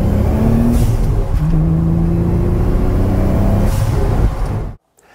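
Car fitted with aftermarket turbo blow-off and recirculation valves, engine running loud and steady with rising tones and whooshing bursts, then cutting off abruptly near the end.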